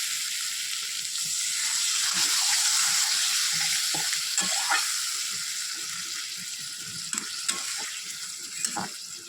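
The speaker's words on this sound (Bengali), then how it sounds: "একটু জল দেবো" Papaya and potato curry with chilli powder sizzles and fries in a pan as a little water goes in, with steady hissing and occasional stirring scrapes close by; no one speaks.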